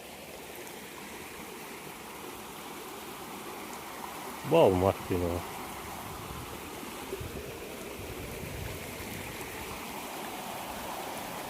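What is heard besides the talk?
rushing stream water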